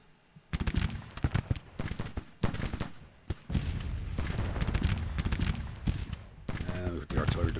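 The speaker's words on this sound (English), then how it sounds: "With the artillery division on fire at will, so they start hitting this infantry" In a Grand Tactician Civil War battle, artillery fires in irregular booming bursts, some single and some clustered, which then merge into a sustained rumble of continuous firing, with a voice talking over the action.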